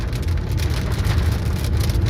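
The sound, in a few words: rain falling in Samana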